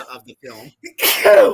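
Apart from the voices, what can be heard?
sneeze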